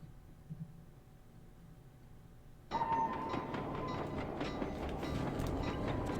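A moving train in the video game Sly 2 starts with a quiet low hum, then a loud, steady rumbling clatter cuts in and continues to the end.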